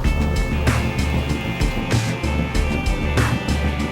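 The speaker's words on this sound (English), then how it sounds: "It's a Lycoming 300 horsepower engine." A light aircraft with a 300-horsepower Lycoming piston engine drones steadily and loudly in flight, a continuous close cabin roar with a constant low hum throughout.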